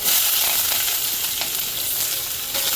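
Chana dal, dried red chillies and onions frying in hot oil give a steady, bright sizzle, close and continuous, with no voices.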